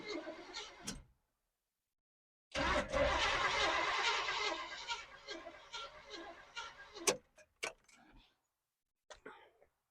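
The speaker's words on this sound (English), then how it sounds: "So I think what we should do now is we should try to start it." A Chevy 350 small block engine with 305 HO heads is cranked and catches, a loud rough burst of churning and rumbling that holds for several seconds then stumbles into sputters and pops before dying, with a few clanks after.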